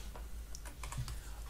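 Faint computer mouse or keyboard clicks, a few light taps in quick succession over a low steady hum.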